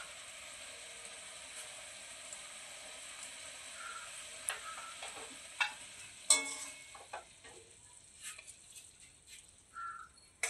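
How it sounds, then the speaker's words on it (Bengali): Prawn fish curry being stirred in a pan, with soft scraping and clicking spoon strokes that grow more frequent toward the end over a faint steady simmer, fairly quiet and close. "মাছের ঝালটা নাড়িয়ে দেবো"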